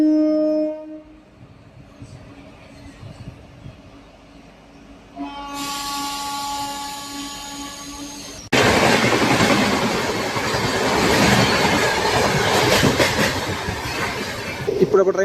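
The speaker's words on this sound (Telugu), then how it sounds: "ఇప్పుడు ఒక ట్రైన్ క్రాసింగ్ ఏం చూసారా" A train passes on the adjacent line beside a MEMU train, first a long horn with a squealing tone, then a sudden loud rush of wheels and rattling cars that continues steadily to the end.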